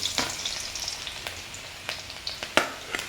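Garlic for a spaghetti sauce fries in a pan with a soft, crackling sizzle and scattered sharp pops and spits, fairly quiet and close, with no one talking.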